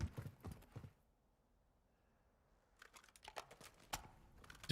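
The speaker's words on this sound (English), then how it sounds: "Did you guys hear a second set of footsteps, or is it just the one?" Footsteps in Call of Duty DMZ thud quickly and close, then go quiet for about two seconds before a fresh run of rapid steps starts up again, with no talking over them.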